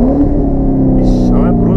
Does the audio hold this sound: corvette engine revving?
yes